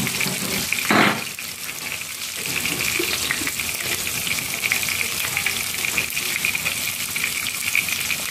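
Spices tempering in hot oil for a Sri Lankan country chicken curry, a steady close sizzle and crackle running throughout with a brief louder burst near the start.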